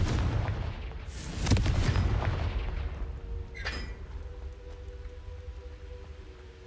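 Explosive blasts from the Confringo spell in a Hogwarts wizarding video game, with a heavy boom and crackling burst early on followed by a sharper blast and a lingering rumbling tail.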